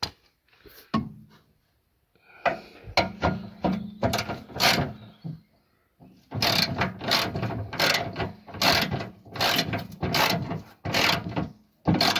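Bolt being tightened on the fender of a BMW E39 sedan, a run of close ratchet clicks in bursts with short pauses, then a longer, busier stretch of rapid mechanical clicking and clanks.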